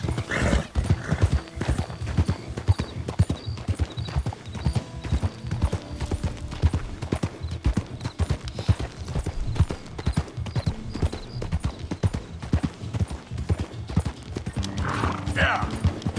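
Horse hooves clip-clop at a steady walking rhythm in Red Dead Redemption 2, close and continuous throughout. A few faint voices and soft game sounds sit underneath.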